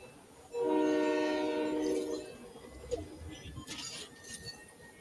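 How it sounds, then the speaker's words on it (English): A train in the Fortnite video game rolls past with a loud, sustained horn blast lasting about a second and a half, then fades into rumbling rail noise with light background sounds. "Here comes the train."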